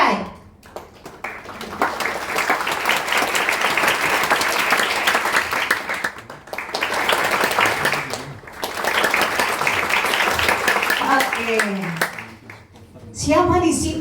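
Children clapping at a combined Sunday school service, several loud bursts of applause separated by brief pauses, with an adult's voice at the end.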